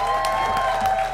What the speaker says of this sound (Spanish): Un aplauso si les gustaron esos cócteles.